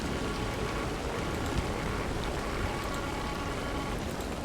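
Steady rain pouring in the Pacific Drive video game, a dense, even hiss and patter that holds at a constant level with no break and no voices.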